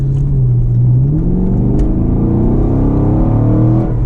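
2016 Chevrolet Camaro SS V8 engine revs with a deep, loud rumble that climbs steadily in pitch as it accelerates, heard close from inside the car with no talking.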